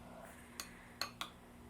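Peach bruschetta topping with honey is tossed in a small bowl, producing three quiet, sharp clinks of a utensil against the bowl over faint background hum.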